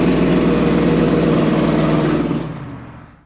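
A full-size pickup truck engine runs loud and close with a steady low rumble and a busy mid-range drone, then fades away over the last second as it shuts off; no one speaks.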